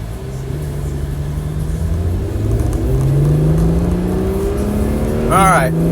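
A 2022 Acura NSX in sport mode accelerating from inside the cabin, engine pitch climbing steadily through the gears as a loud, smooth rising whir, with a brief sharp sound near the end.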